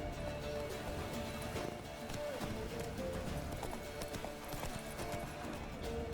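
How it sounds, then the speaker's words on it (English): A horse gallops in The Witcher 3, its rapid clip-clop hoofbeats steady and loud over continuous game ambience. "Need to get on my horse."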